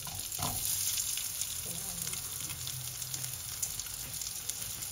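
Onion sizzles in a hot pan while chicken wings adobo with lemon is being cooked, a steady close crackle with occasional stirring scrapes and a voice speaking faintly underneath.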